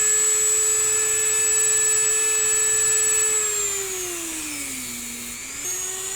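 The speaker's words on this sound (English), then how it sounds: "I'm just going to do a sanding drum rivet into it." A handheld rotary tool spins a sanding drum used to shape a hand cannon prop, a steady high whine that holds even and then drops in pitch as the tool loads up, alone and close.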